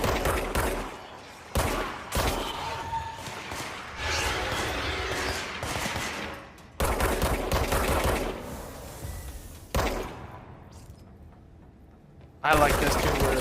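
Gunfire in the video game Control comes in repeated bursts of shots with short gaps between them, moderately loud, while someone talks over the action.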